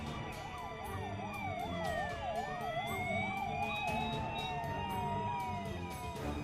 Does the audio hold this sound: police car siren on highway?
yes